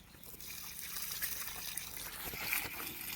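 Water is poured onto a newly planted tree in Dholpur, giving a soft continuous gushing and trickling sound that swells slightly midway, fairly faint and close.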